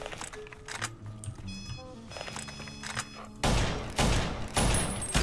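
Gunfire in the video game Fallout: New Vegas: three loud, booming shots about half a second apart near the end, after quieter game sounds and tones.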